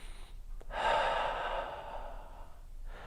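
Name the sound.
slow breathing in through the nose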